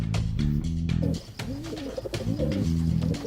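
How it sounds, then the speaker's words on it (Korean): A pigeon cooing near an apartment air conditioner outdoor unit, a close, loud series of low throaty coos repeating in quick succession. "불청객인 비둘기도 예외는 아니죠."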